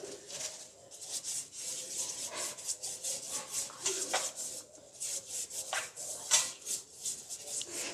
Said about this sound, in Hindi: ये मैंने एक पैन लिया और इसमें मैं ऑयल जो है वो लगा दूँगी ब्रश की मदद से।